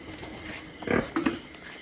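A pig grunts on a farm, two short close grunts in quick succession over quiet background hiss.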